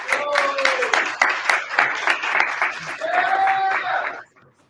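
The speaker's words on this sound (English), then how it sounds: "One last round of applause." Audience applause at a hackathon event, a steady burst of many hands clapping with some cheering voices, close and loud for about four seconds before cutting off.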